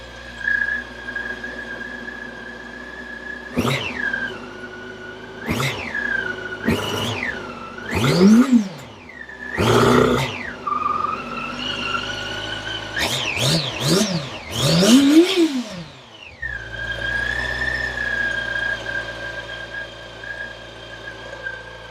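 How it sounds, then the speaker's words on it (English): A Yamaha FZ8 motorcycle on its stock exhaust idles steadily and is blipped again and again, each rev rising sharply and falling back, with a quick cluster of revs near the middle and a settle back to idle. "that's the exhaust at the moment"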